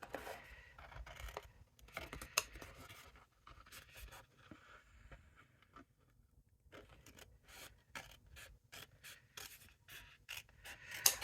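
Paper card stock being cut for the mat layer of a flat-fold box card, heard as a string of close, quiet scraping and snipping strokes in an uneven rhythm, with short pauses and no talking.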